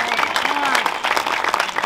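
An audience claps at the Oaxaca by the Sea 2022 celebration, with a steady patter of applause under a voice speaking over a microphone.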